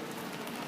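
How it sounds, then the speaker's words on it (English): Heavy late-January rain pours down outdoors on a city street, a dense, steady hiss of drops that fills the short moment. "It is the end of January and it is pouring rain."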